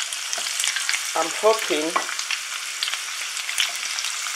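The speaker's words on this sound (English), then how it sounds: "it's frying, as you can hear it" Steady sizzling and crackling of lamb shoulder pieces frying in a pan for curry, with stirring clatter and a short spoken phrase midway.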